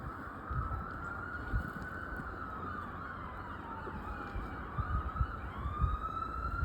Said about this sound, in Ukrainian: Копи десь їдуть, чуєте?